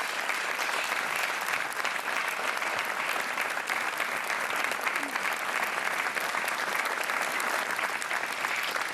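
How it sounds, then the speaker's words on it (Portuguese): Studio audience applauding a contestant on a Portuguese TV quiz show, a dense, even patter of many hands clapping steadily for several seconds at moderate volume with no pauses. "um aplauso merecidíssimo para a Aldina"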